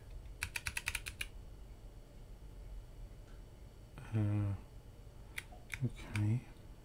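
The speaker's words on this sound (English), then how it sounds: "Going on with my keyboard here." Short bursts of clicking keystrokes on a computer keyboard during hardware board work, a quick flurry near the start and a few scattered clacks later, fairly faint and close, with brief spoken sounds in between.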